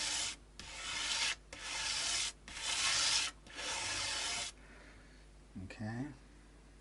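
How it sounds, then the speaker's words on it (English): Coarse sandpaper rubbed on the wood of a 1963/4 Gibson Melody Maker guitar, four loud close rasping strokes separated by short pauses, then someone speaks briefly. "that's taking it using the more brutal sandpaper, because I'm taking a fair bit off"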